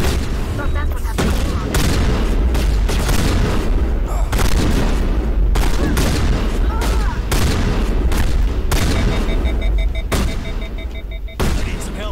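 Gunfire in the Mass Effect video game (Legendary Edition), with repeated loud bursts and booming shots cutting through a steady dense battle din, and a voice talking over the action.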